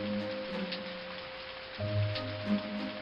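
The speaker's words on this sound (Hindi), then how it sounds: "बादलों की गड़गड़ाहट से पूरी धरती कांपने लगी और मूसलाधार बारिश शुरू हो गई" Heavy cartoon downpour in a stormy scene, a steady soft hiss of falling rain with a few faint thumps, quiet and unbroken.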